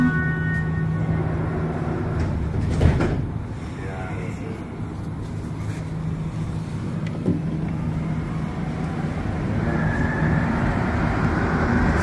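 An AZUR train on the Montreal Metro Orange Line rumbles steadily from inside the car, with a constant low roar and rattle, a few brief clanks and a slight rise near the end.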